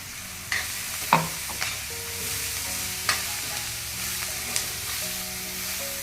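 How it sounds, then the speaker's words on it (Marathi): Ground masala paste sautéing in a pan as it is browned for a green vegetable dish, giving a steady sizzle broken by several sharp spoon scrapes and clinks against the pan. "लाल होईपर्यंत जरा तांबूस होईपर्यंत परतून घ्यायचा"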